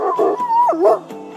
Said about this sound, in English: Here comes a red setter.